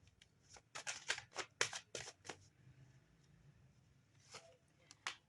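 Oracle cards being drawn and shuffled by hand, a quick series of crisp riffling swishes that stop briefly and then resume with a few more flicks, close and quiet with no talk.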